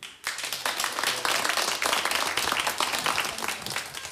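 Audience applause bursts in abruptly after a brief pause, steady and dense clapping from many hands at close range, at a children's stage show where princesses and ballerinas are presented.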